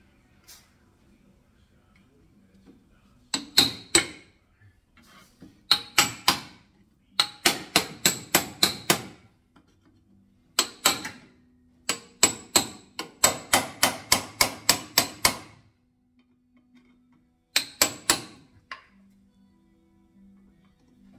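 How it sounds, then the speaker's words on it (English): Metal hammer blows strike a Datsun Z floor panel braced against a rotisserie used as a dolly. Sharp, ringing strikes come in quick bursts of several hits, separated by short pauses, loud and close. "because I can just hammer on it and it saves my floor a little bit."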